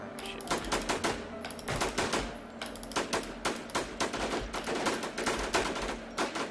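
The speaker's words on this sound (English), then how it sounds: "Stop shooting at me." Dense, rapid gunfire in a close-quarters shooter video game, with bursts rattling on almost without pause for several seconds and a few short gaps between volleys.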